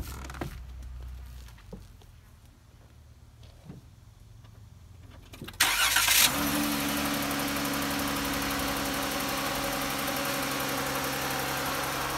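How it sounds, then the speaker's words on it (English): A Dodge Ram Promaster 2500 van engine starts after a quiet stretch with small clicks and settles into a steady, loud idle with a faint knocking vibration, close and without speech. "So now I'm going to start the car up and let's see if that's been fixed."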